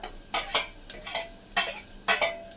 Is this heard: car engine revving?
no